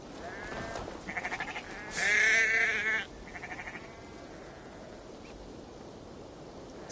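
Sheep bleating in a Viking-era game setting, several wavering calls in short bursts, the loudest and longest near the middle, standing out clearly over a steady background hiss with no talking.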